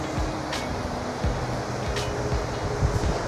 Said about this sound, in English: it's a bit windy, a bit breezy.